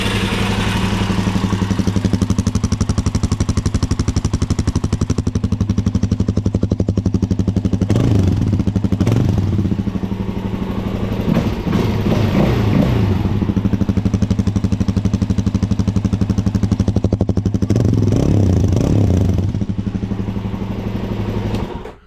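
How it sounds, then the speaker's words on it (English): A Suzuki DRZ400 motorcycle with its stock exhaust idles after a cold start, a loud, steady, close engine thrum with a mechanical clatter running through the whole stretch, uninterrupted and with no talking over it. "this is what the motorcycle sounds like"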